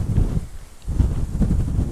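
Strong wind roars and buffets the microphone in heavy low gusts on a 3,500-foot hilltop, easing briefly in the middle before blowing hard again.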